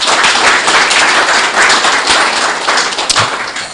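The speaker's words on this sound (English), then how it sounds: "We can do another round of applause." Conference audience gives a loud, dense round of applause, many hands clapping close together in a steady wash for several seconds, with no talk over it.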